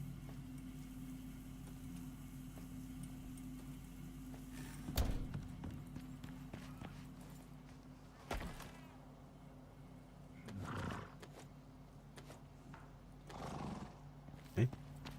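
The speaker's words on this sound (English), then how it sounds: "Let's feed the horses." Horses in the survival video game Icarus neigh and whinny a few times over a steady low in-game hum, with faint hoof clops and a few sharp thumps mixed in at moderate distance.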